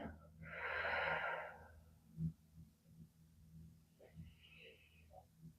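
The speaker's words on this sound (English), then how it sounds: "Breathe in, breathe out." A person takes one long, deep, audible breath in close to the mic, followed by quieter, softer breaths out over a low background hum.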